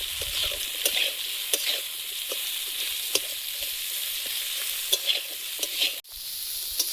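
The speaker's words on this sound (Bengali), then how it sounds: "পেঁয়াজ কুচি, একটু লবণ দিয়ে দেবো, পেঁয়াজটা তাড়াতাড়ি নরম হয়ে যাবে।" Chopped onion with a little salt fries in a pan, a soft continuous sizzle broken by scraping stirs and light clicks, close and steady with no talk.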